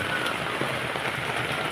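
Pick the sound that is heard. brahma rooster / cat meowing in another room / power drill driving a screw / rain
rain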